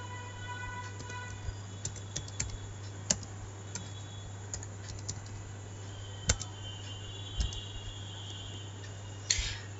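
HTML code is typed on a computer keyboard in a quiet room, with soft, irregular key clicks and a few louder taps over a low steady hum.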